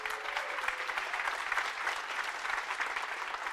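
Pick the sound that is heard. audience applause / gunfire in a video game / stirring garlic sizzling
audience applause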